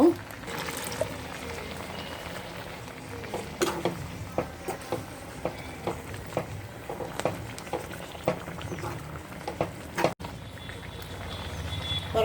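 A pot of Malabar spinach and horse gram curry bubbles and simmers steadily, with soft popping and occasional clinks over a low background hum.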